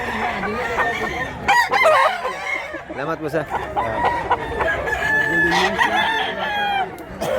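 Roosters crow repeatedly at a busy chicken market in Mantalungon, Cebu, with several overlapping cock-a-doodle-doos and hens clucking around them, close and loud, while people chat nearby.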